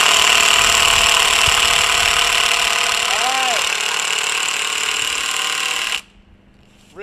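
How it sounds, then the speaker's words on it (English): A Ridgid power drill runs loudly and steadily for about six seconds with a dense, buzzing mechanical whine, then cuts off abruptly to near silence. "The world's longest drilling drill."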